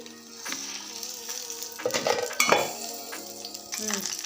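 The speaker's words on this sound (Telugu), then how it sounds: "పచ్చిమిర్చి అయితే తీసుకున్నాను కొద్దిగా ఆయిల్ వేసి" Green chillies frying in a little oil in a pan for chutney, with a steady sizzle, bursts of louder crackling and stirring clatter around the middle.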